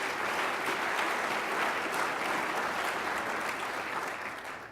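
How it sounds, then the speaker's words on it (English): Audience at a university gala breaks into sustained applause, a dense wash of clapping from a large crowd that holds steady and begins to fade near the end. "let's give them a round of applause anyway"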